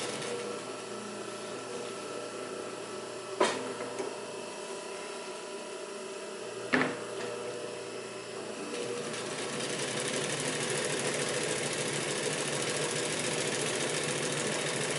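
A Pfaff 145-H3 industrial triple-feed sewing machine with reverse runs with a steady mechanical whir, broken by two sharp clicks, then speeds up into a louder, denser, continuous hum for the final stretch.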